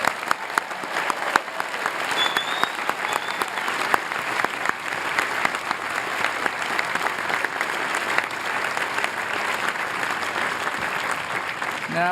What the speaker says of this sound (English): Let's have a big round of applause for the class of